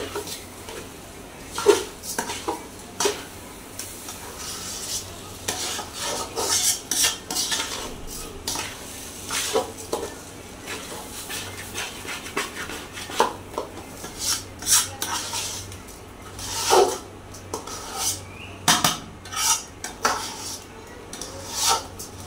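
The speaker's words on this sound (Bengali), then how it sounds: "চালটা হচ্ছে এই তেলেই ভালো করে ভাজিয়ে" Rice frying in oil in a pan gets stirred with a metal utensil, producing irregular scraping and clinking strokes against the pan, close and moderately loud, with uneven pauses between bursts.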